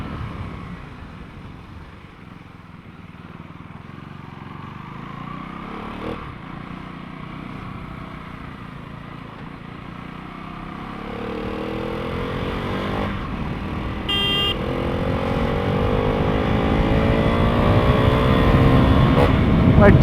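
A KTM Duke 390 motorcycle rides on a road with a low, quieter engine hum at first. It then accelerates, the engine note climbing and growing louder, with wind noise underneath.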